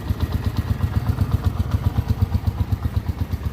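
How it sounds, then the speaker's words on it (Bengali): A Dayang 80 motorcycle engine idles close by with a steady, rapid chugging beat, even and unbroken throughout. "গাড়ি স্টার্ট আপনারা কি শুনতে পাইতেছেন"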